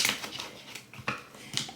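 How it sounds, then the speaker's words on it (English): Quick papery riffles and soft snaps of tarot cards being shuffled, a few bursts close by over about two seconds. "Let me shuffle again."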